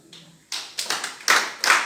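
A church congregation starts applauding: after a quiet moment, loud bursts of hand clapping swell in uneven waves, close and fairly sharp, over a few seconds.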